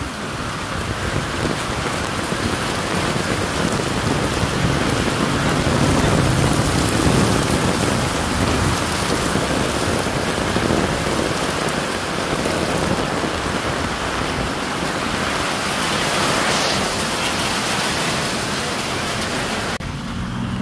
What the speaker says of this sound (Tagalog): Unang ulan.